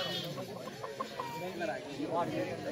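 Large roosters cluck close by in short, soft bursts in a village, blending with background chatter and someone talking.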